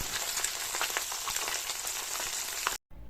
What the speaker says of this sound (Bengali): আস্তে আস্তে আমি মাছটা ভেজে নিচ্ছি